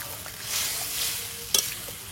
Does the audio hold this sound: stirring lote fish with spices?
yes